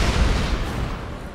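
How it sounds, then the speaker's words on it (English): Dense, loud rumbling blast wash in Dead Rising 3, a broad sustained roar that slowly fades over about a second with crackling debris texture. "That explosion."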